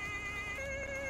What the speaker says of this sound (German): Und zugleich rückt natürlich auch noch der Rettungswagen aus.